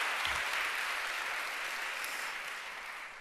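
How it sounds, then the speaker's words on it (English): Audience applause at a 2015 women-in-tech event: a dense, steady burst of clapping from a crowd that stays loud throughout and fades slightly toward the end. "Another round of applause."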